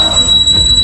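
A house alarm sounds with a steady, piercing high electronic tone that holds unbroken and loud throughout, with low rumbling background noise beneath it.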